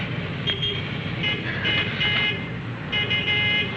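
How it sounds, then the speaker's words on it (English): A bus pulls in amid road noise, and several short, loud horn toots sound in separate bursts, with the engine rumbling underneath. "There's my bus now."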